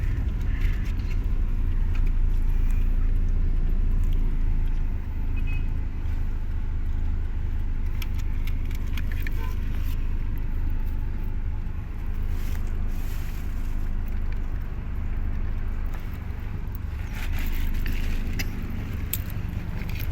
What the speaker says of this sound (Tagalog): Ayan si Bungo, sasakyan po ni Dudong Ruel